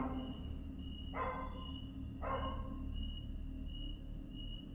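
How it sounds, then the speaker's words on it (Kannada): Two short barks from a dog some distance away, spaced about a second apart, over a constant background hum and insect-like whine. "ನಾಯಿನೂ ಏನೋ ಅವತ್ತಿಂದ ಸೌಂಡ್ ಮಾಡ್ತಾನೇ ಇದೆ"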